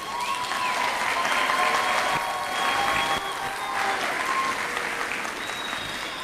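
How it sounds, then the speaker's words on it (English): A large graduation crowd gives the graduates a sustained round of applause, dense clapping mixed with scattered cheers and whistles that holds strong throughout. "you deserve another large round of applause."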